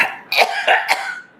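A person coughs three times in quick succession, close and fairly loud.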